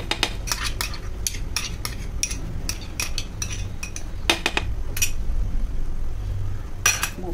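Ground masala stir-fried with Kadaknath chicken on high flame, rapid metal spoon clanks and scrapes against the pot in bursts over a low steady sizzle, close and fairly loud, without voices.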